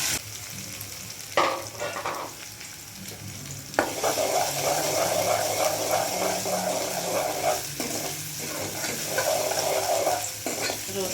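Chopped garlic, green chilli and cumin fry in a pan with a continuous close sizzle, broken by a few stirring scrapes and bursts of louder spitting.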